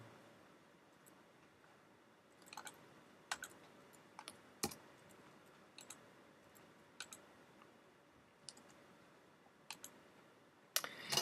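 Computer keyboard typing and mouse clicks, sparse sharp taps in scattered bursts over a quiet room background, close and fairly faint.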